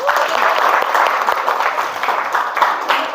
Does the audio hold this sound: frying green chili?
no